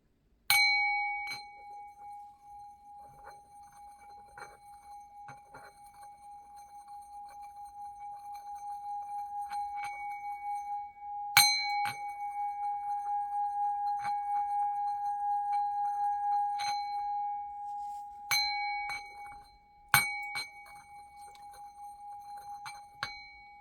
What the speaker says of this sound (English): You'll hear 3 clangs and a little bit of a high-pitched ringing